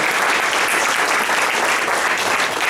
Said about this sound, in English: please give Milan and this organization a round of applause